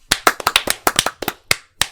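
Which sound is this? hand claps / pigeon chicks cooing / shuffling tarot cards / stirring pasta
hand claps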